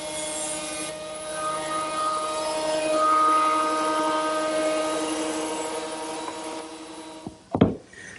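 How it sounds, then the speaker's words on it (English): A steady, loud mechanical whine and hum of a thickness planer running, droning for several seconds before stopping with a brief clunk. "it only takes a few minutes to run each board through the surface plane"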